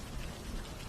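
Heavy rain falls steadily, a dense, even hiss of drops with no breaks, moderately loud and unaccompanied by voices or other sounds.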